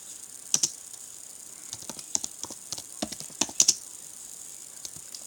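Quick, uneven keystrokes on a computer keyboard clatter in short bursts and pauses, fairly close and moderately quiet, with no talking.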